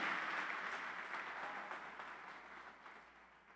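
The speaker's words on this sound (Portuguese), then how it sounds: "Aplauda ao Senhor, aleluia." A church congregation applauding during a worship service, the clapping softish and fairly distant, strongest at the start and slowly fading over the few seconds.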